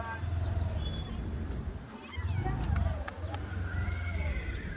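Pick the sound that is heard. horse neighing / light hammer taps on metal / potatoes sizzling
horse neighing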